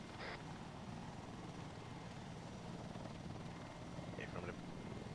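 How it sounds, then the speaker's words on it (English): A helicopter in Arma 3 drones steadily as a faint, continuous rotor rumble beneath the scene, with brief radio-like chirps over it. "I'm currently on a helicopter"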